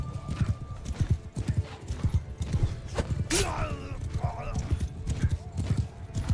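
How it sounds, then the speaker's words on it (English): Horse hooves clip-clopping at speed in the medieval combat game Mount & Blade II: Bannerlord, with a whinny, steady and close under ongoing speech and battle noise. "the horse we got is crazy fast"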